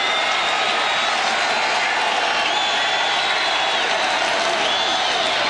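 Stadium crowd at a 1998 college football game, Texas A&M at Southern Miss, roars in a steady, dense wash of cheering and applause with scattered whistles, sustained for the whole stretch.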